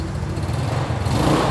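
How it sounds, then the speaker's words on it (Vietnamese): A Yamaha Nouvo 3 scooter engine runs with a steady, close idling hum that rises slightly toward the end, with no talk over it. "Mình ra phía sau để cho cái micro nó thu được cái tiếng máy anh em nghe nè"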